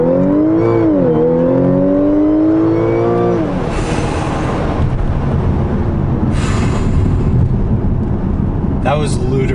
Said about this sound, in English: Okay, and now just smash the gas. And then let go of the brake.